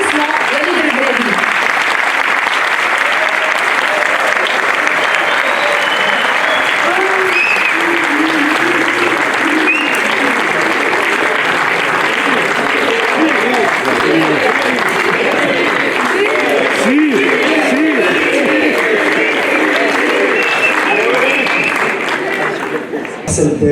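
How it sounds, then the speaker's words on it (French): An audience gives long, sustained applause to welcome a speaker to the stage, a dense and even crowd clapping that stays loud throughout with cheers and voices mixed in before thinning out at the very end. "Mesdames et messieurs, sous vos applaudissements, Walid El-Beladi."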